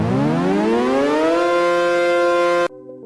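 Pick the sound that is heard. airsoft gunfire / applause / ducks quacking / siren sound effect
siren sound effect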